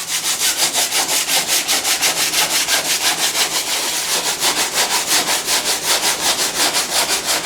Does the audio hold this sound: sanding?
yes